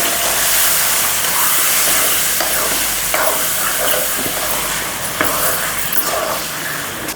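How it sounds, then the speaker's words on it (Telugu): Washed chicken hits a hot pan, letting out a loud continuous steamy hiss and sizzle with a few crackles and scraping stirs, close and dominant throughout. "ఇప్పుడు మనం కడిగి పెట్టుకున్న చికెన్ వేసుకోవాలి"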